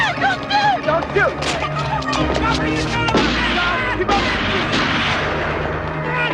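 Film gunfire crackles in sharp bursts and booms within a dense, busy soundtrack. Several separate shots stand out over a continuous layered background.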